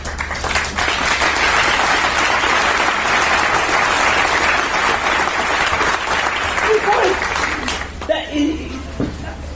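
Audience at a Mandela speech claps in a loud, sustained, dense wave that ends abruptly near eight seconds, followed by a few stray sounds.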